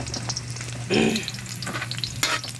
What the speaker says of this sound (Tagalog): gisa na natin yung sibuyas, tapos may bawang at kamatis tayo